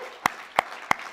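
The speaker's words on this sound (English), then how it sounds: "Let's give him a round of applause for that." Three sharp, evenly spaced claps from an audience at an environmental policy event with California senators, each one close and distinct against quiet room noise.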